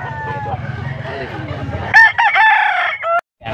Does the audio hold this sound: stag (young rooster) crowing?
yes